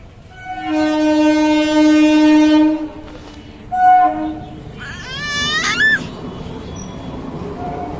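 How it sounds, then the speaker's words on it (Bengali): At a railway level crossing, a train sounds a long, loud horn blast, then a shorter one, followed by a rising, wavering whistle-like tone as it passes, with faint crowd babble in the background. "তখন কিছুক্ষণ অপেক্ষা করার পরেই ট্রেন চলে আসলো।"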